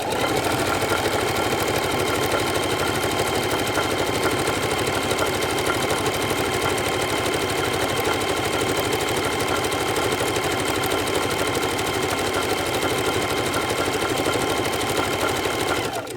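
Sewing machine stitching a quilt, a continuous rapid mechanical chatter running steadily at close range with no pauses.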